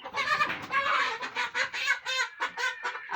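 Chickens cluck repeatedly at close range while being vaccinated against fowl pox under the wing. The calls come in rapid, uneven bursts that continue throughout, with no talking.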